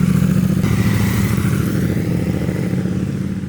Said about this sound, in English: when you drive it on the highway and you open the exhaust, it gives that feel that you expect of a motorcycle